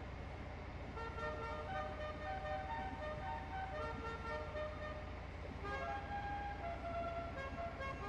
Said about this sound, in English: The musical horn, it's kind of like Dukes of Hazzard.